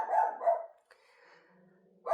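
An indoor pet dog barks at people putting up Halloween decorations next door, giving two loud close barks followed by a fainter trailing whine and a sharp yip at the end.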